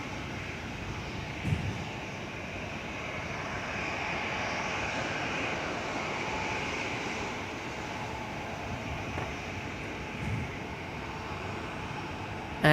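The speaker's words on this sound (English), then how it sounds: "got a Airbus A320 coming in, Virgin, Victor November Juliet, coming in on runway 21 today" A Virgin Airbus A320 airliner approaches to land on runway 21 at Perth, its steady broadband engine roar and rushing air sustained throughout at moderate distance, with no voices.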